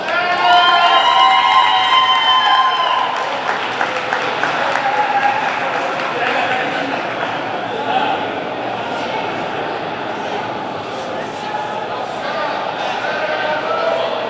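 Applause and cheering from a speedway awards banquet crowd at the Wichita Union Stockyards, sustained clapping with whoops and shouts, loudest at the start, with voices mixed in.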